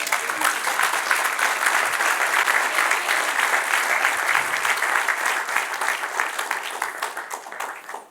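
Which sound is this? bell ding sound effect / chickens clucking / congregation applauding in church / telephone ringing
congregation applauding in church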